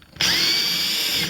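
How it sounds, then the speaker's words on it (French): An electric drill bores into a wall while a radiator is being mounted, a loud, steady close whine that starts abruptly and holds throughout. "je prends ma perceuse,"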